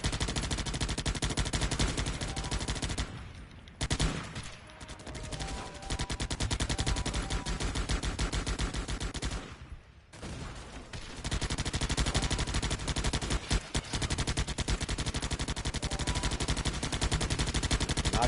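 Dense, continuous gunfire from the mobile strategy game Guns Up, rapid machine-gun bursts layered over one another and running almost nonstop, with only two brief lulls.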